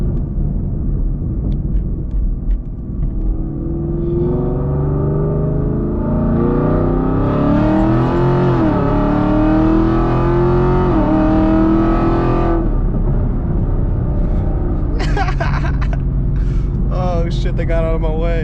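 A Camaro SS with a 500 whp E85 engine driving, heard as a loud, steady engine rumble that rises and falls as it revs and accelerates, with a voice talking over it.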